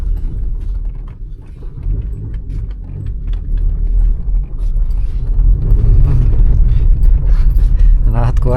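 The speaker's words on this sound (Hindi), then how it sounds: "और यहाँ से गाड़ी भी आई है।" A car moves along a narrow road at night with a close, low engine rumble that thickens and grows louder toward the end, and faint creaks and rattles mix in.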